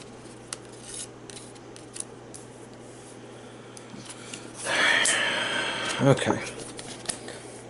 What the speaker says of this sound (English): Let's draw our 5 cards.